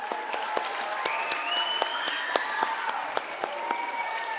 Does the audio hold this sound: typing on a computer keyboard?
no